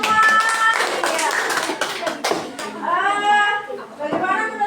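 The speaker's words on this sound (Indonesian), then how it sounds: "tepuk tangan untuk kita semua" Applause from a primary-school maths class, a busy spread of hand claps blended with children's voices and chatter, fairly close and continuous.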